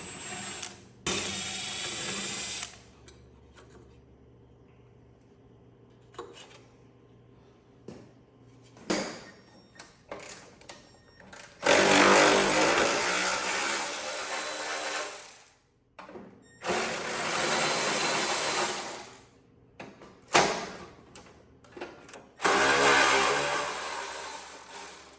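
A ratchet works the bolts loose from lawn tractor shrouding on an old Lawn Chief, with bursts of rapid clicking and metallic rattling between quiet pauses. The sounds are close and intermittent, with no talk.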